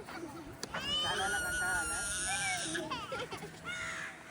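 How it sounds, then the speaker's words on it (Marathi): A bird calls loudly and repeatedly in a harsh, crow-like caw, with several strained cries close by over a noisy outdoor background in Daman. "आमचा एक पक्षी ओरडायला लागलाय आता."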